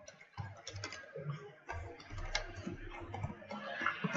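Keys clatter in irregular bursts as HTML code is typed on a computer keyboard, close and moderately loud, with short pauses between runs of strokes.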